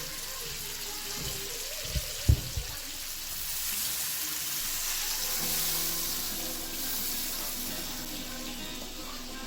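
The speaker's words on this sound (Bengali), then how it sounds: "উপর থেকে জল দিয়ে দেব।" Water poured from above into a pan holding bhetki fish, a soft steady rushing hiss that runs through the clip after a few brief clanks near the start, with no voices.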